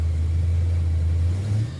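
A fuel-injected Chevrolet Impala engine, the Crusher Impala, runs close by with a loud, steady low rumble, holding even throughout before easing slightly at the end, with no voices.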